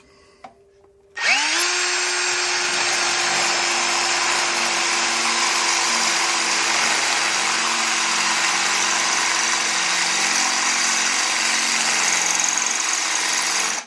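A cutting bit bores a center hole in a VW engine part, a sharp, steady, high-pitched power-tool whine that starts abruptly after a moment of quiet and runs loud and unbroken.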